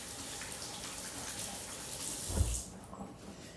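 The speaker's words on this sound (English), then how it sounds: "gonna rinse off my fingies." Tap water running over fingers at a kitchen sink while cooking Baja fish tacos, a steady soft wash of flowing water with a brief splash as the hands move under it, then it eases off.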